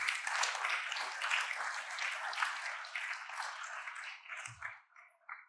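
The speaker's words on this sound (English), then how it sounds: "How about a nice round of applause for the sound guys and tech guys?" An audience at a closing session on climate hope gives a sustained round of clapping, dense and even for several seconds before thinning out into a few scattered claps at the end.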